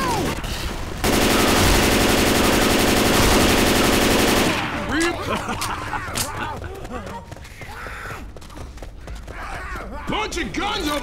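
Rapid automatic gunfire in a zombie shooter game rattles loudly for several seconds, then gives way to softer footsteps and scattered shots as players talk over the action.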